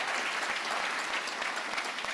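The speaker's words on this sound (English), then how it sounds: "I want to give David and his team a big round of applause" A crowd at a New York ribbon-cutting event gives dense, sustained applause, an even, continuous roar of many hands clapping with no voice standing out.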